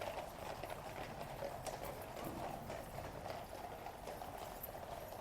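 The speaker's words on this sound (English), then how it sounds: "See all the sand being kicked up by the horses." Steady clip-clop of horse hooves on sand during a royal cavalry inspection, a continuous rhythmic thudding close by with no talking.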